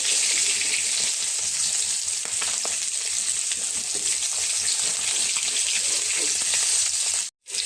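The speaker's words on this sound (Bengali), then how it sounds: "মাছগুলি ভেজে নিলাম।" Fish pieces fry in hot oil in a kadai, a loud, steady crackling sizzle running continuously, cut briefly by a short gap near the end.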